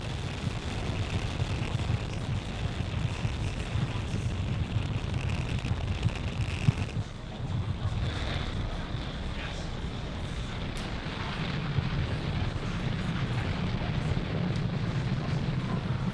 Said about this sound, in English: Falcon 9 has successfully lifted off from Space Launch Complex 40, carrying our 53 Starlink satellites